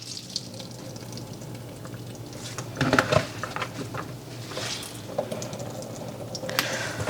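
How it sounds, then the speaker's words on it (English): Water squeezed by hand from grated zucchini drips and trickles close by, with wet squishing and a brief louder splatter midway, then quiet patter continuing to the end. "I'm just going to wring it with my hands. Maybe you can hear it draining."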